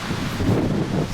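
Gusty wind blows outdoors on a hillside in southern Norway, buffeting the microphone with a loud, broad, continuous roar and rustling that swells slightly toward the middle of the brief moment.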